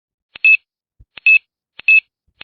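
Telephone keypad tones while dialing a number: three short two-part electronic beeps evenly spaced about 0.7 seconds apart, each a quick blip followed by a steady tone, clear and alone with no talking.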